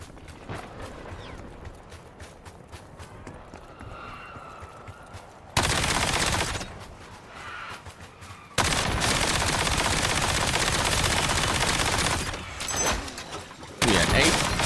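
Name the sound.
gunfire in a video game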